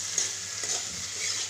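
Sliced potatoes fry in a pan with a steady, close hiss of hot oil and light stirring, brief and without talk.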